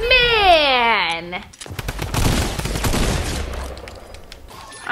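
Drum gun fire in the Fortnite video game: a raised, excited voice first, then a loud, dense stretch of rapid gunfire that tapers into rougher noise.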